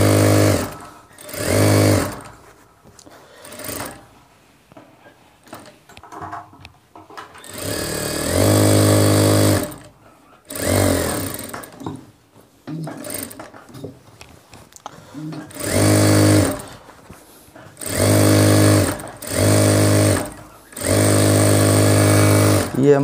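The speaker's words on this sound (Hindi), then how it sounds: "पहले मैं पट्टी पे सिलाई लगा लेता हूँ।" Sewing machine stitching a strip for a shirt, running in repeated loud bursts of a few seconds each with fast rhythmic needle chatter, separated by pauses with quiet handling noises.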